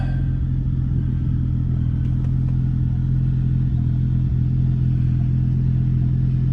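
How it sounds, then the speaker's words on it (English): A steady, rumbling Audi Ur Quattro MB engine idles continuously at close range just after a fast run, its low drone holding even with a faint rattle, with no rise in revs. "Quattro MB motor here, idling just after a fast run"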